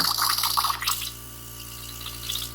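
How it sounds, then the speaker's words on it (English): Water runs and splashes into a small makeshift sink while an airbrush is rinsed clean, loud and close for under a second before cutting off to a quiet hum. "Water's coming out clear, but there's still a little black in here."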